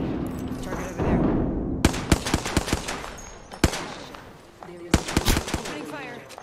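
Gunfire in the battle royale game Apex Legends, a whooshing ability sound followed by sharp, irregular bursts of shots, some single cracks and some rapid clusters, loud and close, with brief gaps between volleys.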